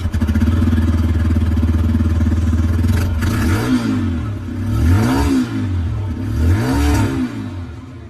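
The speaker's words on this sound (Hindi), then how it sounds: "अब दोस्तों मैं आप लोगों को यहाँ पर इसकी जो एग्जॉस्ट साउंड है वो भी मैं आप लोगों को सुना दूं।" A 125cc motorcycle engine idles steadily, then its exhaust is revved in three rising and falling bursts, loud and close.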